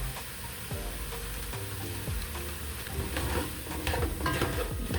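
Turmeric and seasonings are stirred into sizzling vegetables in a pan, with a steady close frying hiss under repeated scraping strokes that grow busier toward the end.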